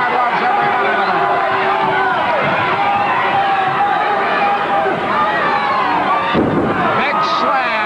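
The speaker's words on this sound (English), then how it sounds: "The crowd loves every minute of it." A wrestling crowd at a 1980s Stampede Wrestling TV match keeps up a loud, steady roar of cheering and babble from start to finish, with a brief dip near the end, as a comeback unfolds in the ring.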